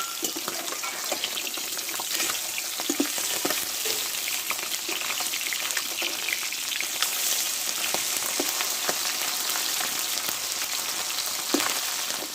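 Bata fish fries in hot oil in a pan, producing a steady, loud, crackling sizzle that runs without a break throughout, with a few faint pops and clicks; no voices.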